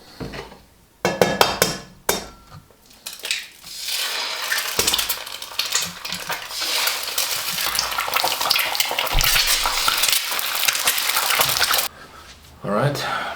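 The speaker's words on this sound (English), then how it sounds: "that the pan is very, very hot, so it's sizzling." Eggs fry in a very hot pan with a steady, loud sizzle that runs nearly unbroken, broken by a few sharp clatters of utensils and pan near the start and a brief drop near the end.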